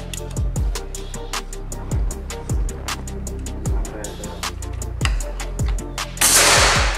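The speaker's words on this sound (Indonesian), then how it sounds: "Oke, lanjut tembakan yang kedua." Sharp, snappy Gousuto Oria V2 air rifle shots repeat at a steady pace, about one every second, each a crisp crack with a short thump, over faint background noise and a closing hiss.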